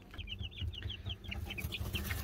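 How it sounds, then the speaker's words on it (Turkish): Young chicks, Brahma, Silver Laced Wyandotte and Dutch crested, chirp steadily: a quick stream of high, thin peeps repeating over a low, continuous background rumble. "7 tane de Brahma civcivimiz büyüyor arkadaşlar."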